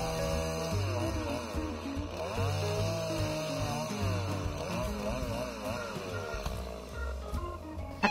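A chainsaw runs steadily nearby, its engine pitch sweeping up and down as it revs and bogs, moderately loud and continuous.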